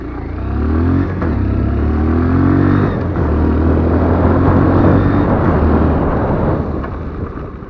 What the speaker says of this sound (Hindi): मैं अभी आपको इस बाइक का ब्रेकिंग दिखाता हूँ किस तरह का इसका ब्रेकिंग है।